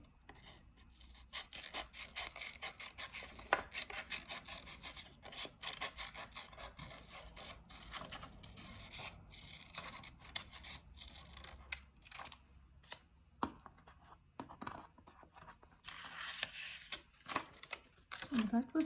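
Scissors cutting paper for a snowman craft, a long run of close, quiet snipping strokes in an uneven rhythm with paper rustling between cuts.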